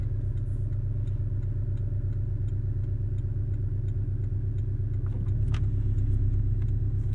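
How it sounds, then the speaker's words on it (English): A 2017 Porsche 718 Cayman S exhaust burbles with a deep, steady low rumble while driving, punctuated by faint ticking and a brief higher rasp toward the end. "we'll be quiet for a minute and let you listen to this exhaust"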